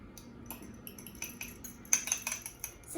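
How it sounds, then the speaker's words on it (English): A fork clinks and scrapes against a bowl while beating eggs, in a series of quick, uneven taps that get louder toward the end, close up, with no talking. "Now beat it with a fork"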